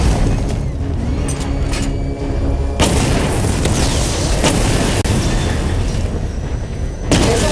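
Booming missile barrage explosions destroying targets in Batman: Arkham Knight, loud and close, rolling one into the next with heavy low rumble and sharp blasts around the three- and seven-second marks.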